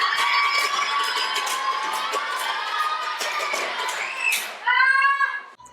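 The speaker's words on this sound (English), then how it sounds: "you have all my permission in the world to scream as loud as you can" Children at a school in Honduras scream and shout loudly all at once, a dense sustained crowd of young voices that swells and then ends in a burst of high shrieks.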